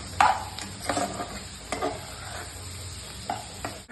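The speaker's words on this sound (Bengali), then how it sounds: "একটু গোলমরিচের গুঁড়ো দেবো আর ম্যাগি মশলা দেবো। দিয়ে ভালোভাবে ভেজে নেবো।" Food sizzles in a pan seasoned with black pepper powder and Maggi masala while a spoon stirs it in several scraping strokes, with a steady frying hiss underneath and no talking.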